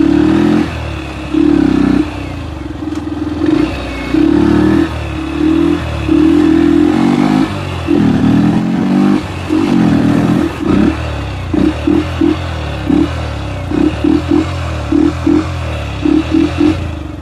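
A Yamaha FZS V3 motorcycle fitted with a Uni air filter, its engine revved loudly and repeatedly close by, with sustained blips giving way to a quick series of short throttle bursts, no talking.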